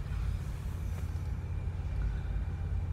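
A steady low engine rumble from a vehicle running nearby at a Starbucks, continuous and moderately loud with no voices over it.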